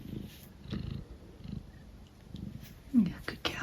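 A small female cat purrs softly and close, a low rhythmic rumble in gentle pulses, with faint breathy sounds over it.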